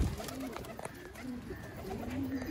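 A male pigeon coos in low, throaty rolling calls at close range, repeating steadily against a quiet background.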